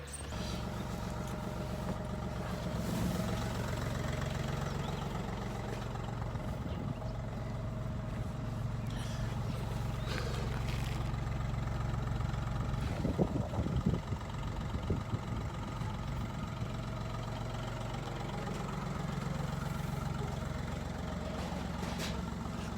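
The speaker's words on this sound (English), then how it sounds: "let me give you guys a cold start" A Volkswagen Polo Classic 1.4 TDI diesel engine idling after a cold start, a steady low rumble with a rhythmic diesel clatter running throughout, heard close and continuous with no talk.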